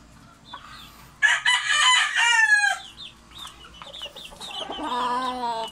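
A white Kelso chicken in a backyard farm gives a loud, close crow followed by several clucks and short calls, alone without talk.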